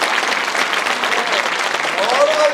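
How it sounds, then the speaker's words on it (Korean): An audience at a Korean sports association inauguration claps together in a brief, dense burst of applause, with a voice briefly heard near the end. "그래서 박수 한번 쳐주세요."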